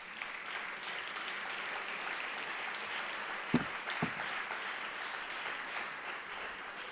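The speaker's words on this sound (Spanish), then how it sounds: "este aplauso entonces a todos los embajadoras y embajadoras de la educación financiera" Audience at an international seminar on financial education applauding, a full, sustained wash of clapping that holds steady for several seconds, broken by two brief louder knocks midway.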